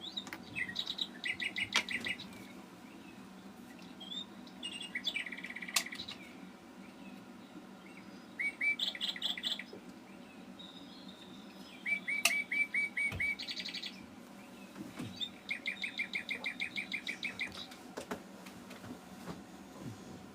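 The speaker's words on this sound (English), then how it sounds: "No, it's not long enough, is it, when Birdie chirps" A pet bird chirps indoors in repeated quick bursts of high tweets, spread across the clip at moderate loudness over a low background hum, with brief pauses between the runs of calls.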